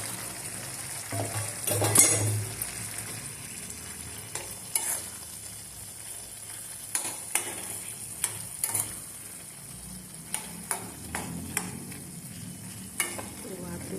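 A ridge gourd and snail curry simmering in a pot, a soft bubbling sizzle running underneath while a spoon scrapes and clinks against the metal in irregular strokes, moderately close and fairly quiet, with no one speaking.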